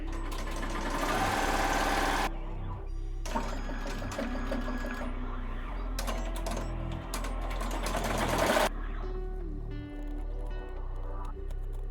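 An embroidery sewing machine stitches a Christmas appliqué in close, rapid mechanical bursts, starting and stopping with short pauses between runs of stitching.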